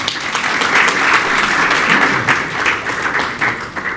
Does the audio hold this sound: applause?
yes